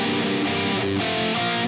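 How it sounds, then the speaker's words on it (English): Distorted electric guitar notes ring out and sustain into each other without palm muting, a continuous buzzing overdriven tone with chord changes, played alone and fairly loud. "Don't let those notes ring out like this."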